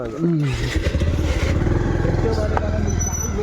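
A motorcycle engine rumbles steadily as the bike rides a rough, bumpy road on a hill trip in Kerala, loud and continuous beneath people talking.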